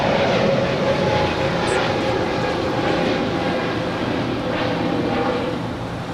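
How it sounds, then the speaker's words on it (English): A two-year-old Spirit Airlines A320 on its takeoff roll at LAX gives a sustained loud broadband jet roar, steady and close, easing slightly toward the end with no voices. "And that was Spirit 128 off to Baltimore. It's a 2-year-old A320."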